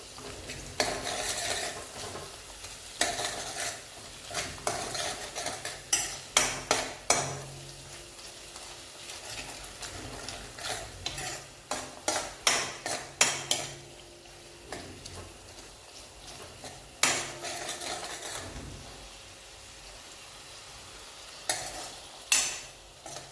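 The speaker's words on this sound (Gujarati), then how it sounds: "થોડો એવો ગોળ નાખીશું અને સારી રીતે ચમચાના મદદથી મિક્સ કરી દેશું" A spoon stirs jaggery into a kantola (spiny gourd) curry with cashews, giving repeated scraping, clinking strokes against the pan over a soft sizzle, close and steady throughout with no talking.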